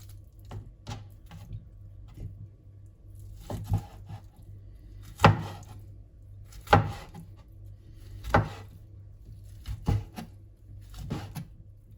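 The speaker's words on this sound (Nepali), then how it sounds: "अनि त्यसै गरेर पोकलाई पनि काटिदिउँ है त" Knife chopping cooked pork into small pieces on a wooden board for pickle, a series of single firm thuds spaced about a second apart, close and distinct over a faint hum.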